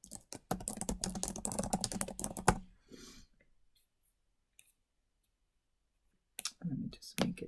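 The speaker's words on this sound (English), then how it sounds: "let me just type my text so you see what it looks like." A burst of rapid clicking keystrokes on a computer keyboard runs for a few seconds, then stops. Quiet follows, and a few more clicks and soft sounds come near the end, with no one talking.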